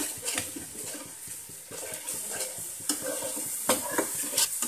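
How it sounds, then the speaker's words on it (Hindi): Spices and beans fry and sizzle in a pan while a spoon stirs them, giving steady close crackling with repeated scraping strokes, no voices. "और मसालों को मिक्स कर लें।"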